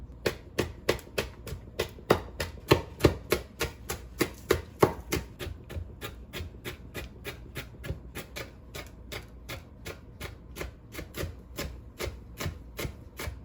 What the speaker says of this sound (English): I'm gonna get everything chopped up and then we'll see how much I want to add.